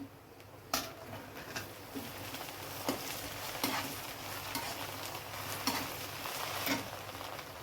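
Ginger and garlic paste frying in hot oil for a mutton keema curry, a steady soft sizzle with periodic scraping stirs of a spoon in the pan, close and moderately loud with no talking.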